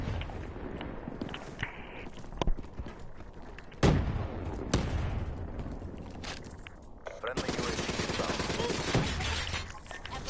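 ICR-1 assault rifle firing in Black Ops 3 with high caliber equipped, several short bursts and single sharp shots scattered among footsteps and game effects, a dense rattling stretch near the end, with a player talking over it.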